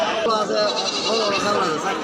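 Goats bleat repeatedly at a busy livestock market in Hoybotpur, Natore, where crossbred goats such as Haryana, Totapuri and Jamunapari are sold, with close, steady calls mixed with crowd noise and people talking nearby.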